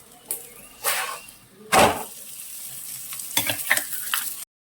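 Vegetable paratha stuffed with capsicum, cabbage, onion and tomato frying in pure ghee, a close sizzle rising in short bursts as the pan is worked, with intermittent scraping and no talking.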